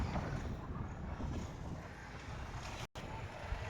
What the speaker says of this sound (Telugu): ఇక్కడనైతే చాలా గాలి వస్తుంది